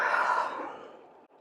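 An exhaled breath during a yoga hip session, filmed live in a studio: a single soft, airy sigh that starts fairly strong and slowly fades over about a second, heard alone and close.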